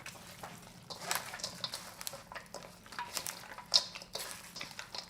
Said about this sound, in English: I'm going to mix this all together with this spicy mixture of hot pepper flakes and garlic